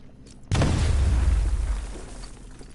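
Explosive gel detonating in the Batman: Arkham Knight video game, a sudden loud boom with a deep rumbling blast that lingers and slowly fades over a couple of seconds.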